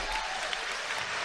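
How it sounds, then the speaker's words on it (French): A whole crowd applauding, a dense, even patter of many hands clapping at once, fairly faint and distant, lasting only a moment. "il y a tout le monde qui applaudit"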